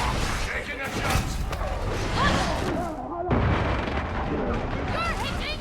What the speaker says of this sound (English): Taking a shot.